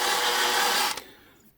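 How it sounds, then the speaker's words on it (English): A part on a Honda CB750 K2 motorcycle being quickly deburred with a drill-mounted tool, a steady loud whir that cuts off abruptly after about a second, leaving a fading low hum. "Just give it a quick deburr."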